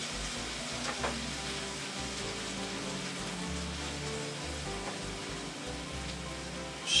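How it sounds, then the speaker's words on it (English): Sauce and green onions hitting a hot pan of beef and cabbage stir fry, giving a steady close sizzle with soft crackle throughout and no talking. "now the last step, which is our sauce, goes in there, and our green onions"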